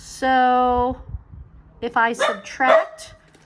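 A pet dog lets out one long, loud, steady bark or whine near the start, followed by a person talking about arithmetic.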